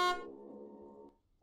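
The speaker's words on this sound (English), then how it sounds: "I hate the honk." Single short honk from a vehicle horn in a video game, a bright brassy blast that fades over about a second, with no voices over it.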